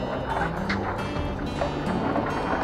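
High-pressure water rinse spraying over a Cadillac in a self-serve car wash bay, a steady, dense hiss and rush running loud and continuous with no talking.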